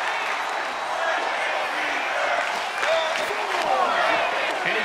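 A crowd at a backyard wrestling match applauds and cheers in a dense, continuous wash of clapping and shouting, loud and close throughout, with voices mixed in.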